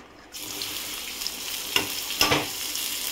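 Two large onions dropped into hot oil, a bright sizzle bursting in after a quiet start and holding steady, with a couple of sharper crackling surges as the pieces are stirred, close and alone.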